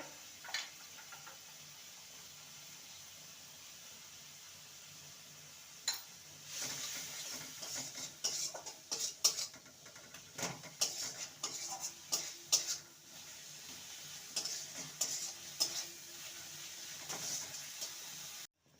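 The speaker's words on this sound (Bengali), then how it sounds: "মশলার সাথে আলুকে ভালো করে মিশিয়ে নিয়েছি" Mashed potato being stirred and mixed with spices for samosa stuffing: quiet, intermittent scraping and light clinks of a utensil against a pot, starting after a few near-silent seconds.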